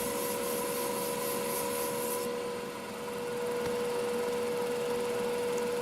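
A wooden mallet head is sanded on a sanding system, giving a continuous close abrasive rubbing with a steady machine hum underneath, uninterrupted for the whole stretch.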